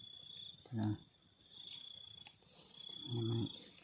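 Two black crickets out in the field after rain, giving a steady high chirp throughout with two short, louder low bursts of nearby noise breaking in.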